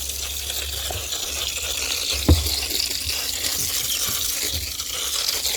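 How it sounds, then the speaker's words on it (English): Water is poured from above onto a bin of European nightcrawler worms in a garden during a heat wave, a soft continuous hissing trickle with one brief thud, faint and steady with no talk. "I think I'm going to put just a little bit water on my European night crawlers"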